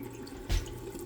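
Water from an indoor faucet runs while a house's plumbing is being winterized, a soft steady splashing with a brief louder gush partway through, close and fairly quiet.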